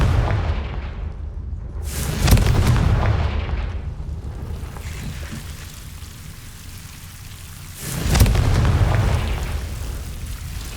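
Two booming fire-spell blasts of Confringo in the video game Hogwarts Legacy, each a loud burst followed by a rumbling, crackling decay, spaced about six seconds apart with a quieter ambient stretch between them.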